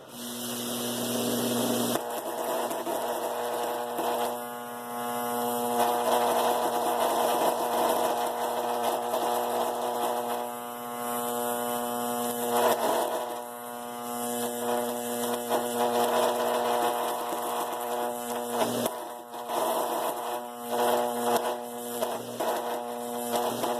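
A full-bridge PLL solid state Tesla coil drawing continuous-wave arcs buzzes with a loud, steady, harmonic-rich electrical hum, swelling and easing as the power is cranked up and down, with no talking.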